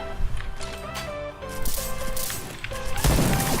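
Gunfire in the shooter game Point Blank: rapid bursts of shots crackle over a tonal game soundtrack, growing louder and denser toward the end.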